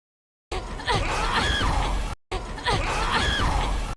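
A monster's drawn-out scream in the Resident Evil Requiem video game, a harsh screeching wail played twice in a row with a short gap, loud and close.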